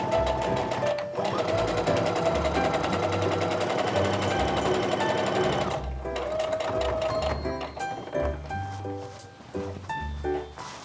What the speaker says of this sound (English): I'm gonna sew a 1/4 inch seam around the 2 raw edges